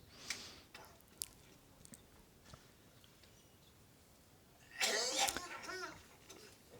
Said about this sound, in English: You're coughing a lot these days.